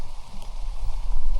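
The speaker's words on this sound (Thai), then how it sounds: "เห็นแล้วเก็บอาไวคาโดปุ๊บฝนตกปั๊บเลย" Rain falls steadily outdoors on an avocado orchard during picking, a dense patter of drops on leaves and surfaces that builds slightly louder toward the end.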